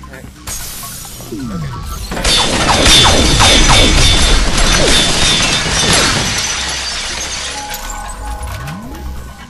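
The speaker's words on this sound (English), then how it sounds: "Destructible glass." Destructible glass in the first-person shooter FEAR shatters loudly, a burst of crashing, tinkling shards sustained for several seconds amid clanking mechanical game noise, then tapering off.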